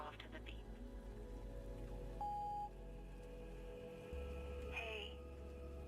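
A single short electronic beep sounds out clearly over a steady background hum, followed moments later by a faint rising tone.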